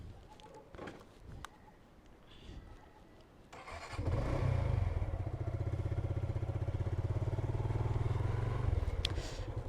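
A Suzuki Gixxer motorcycle engine starts up after a few quiet seconds of birdsong, then settles into a close, steady, throbbing idle that continues loud to the end.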